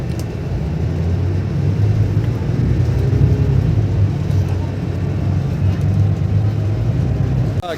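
A city bus pulls away from a stop near a metro station in Dubai, its low engine rumble steady and loud, holding close for several seconds before trailing off.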